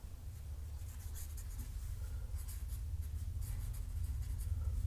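Pen or marker scratching steadily across paper while drawing a horizon line for a landscape painting in perspective, a soft continuous scribbling texture over a low room hum, close and fairly quiet, with no talk.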